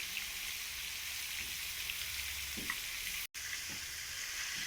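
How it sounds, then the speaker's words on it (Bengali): Potatoes fry in a pan with a steady, close sizzle of hot oil, a few soft stirring clicks and one brief dropout, no voices. "আলুগুলো ততক্ষণ ভাজতে থাকো"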